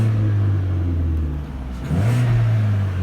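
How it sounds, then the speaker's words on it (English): A Vauxhall Insignia 1.8 engine revs up close by, a steady low idle rising into a loud surge of throttle, dipping briefly mid-way and then holding at higher revs, with no talking. "rev the engine up"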